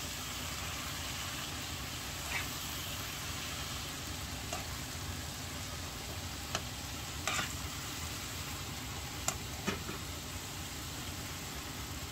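Bitter gourd and egg frying in a pan give off a steady sizzle, with a few faint scrapes and taps as they are stirred.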